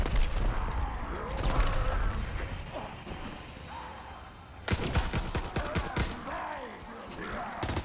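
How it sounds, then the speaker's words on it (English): Bursts of Tesla gun fire in Call of Duty Zombies, crackling blasts and crashes over a dense game mix, loudest in the second half, with a voice talking in between. "I'm gonna try shooting it with the Tesla"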